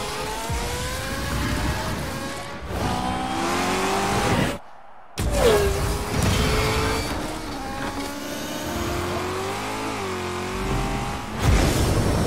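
Cars revving in a Rocket League trailer, loud engine whines rising and falling in pitch, with tire squeals and a sudden brief gap of silence midway before the engines roar back.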